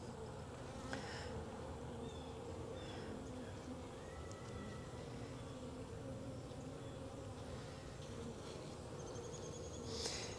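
Honey bees buzzing on a hive frame in a Jacksonville, Florida backyard hive, a dense steady drone of many insects close by, with occasional louder individual buzzes passing near, no talk.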